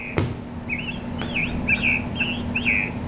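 A voice-activated singing bird Christmas ornament on a tree: a sharp tap, then a run of bright synthetic chirps and warbling tweets, fairly close, over a faint steady electronic hum.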